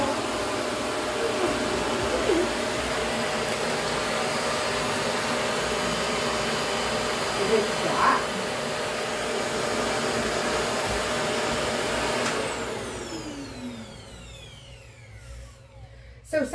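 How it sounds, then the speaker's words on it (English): A household vacuum cleaner runs loudly and steadily close by during a nine-week-old puppy evaluation, a continuous roaring whine that winds down near the end as the motor is switched off. "Should we try the vacuum cleaner?"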